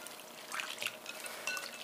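Cold water runs and splashes as soba noodles are washed by hand in a bowl, a soft, close trickle with small slaps and drips of the noodles moving.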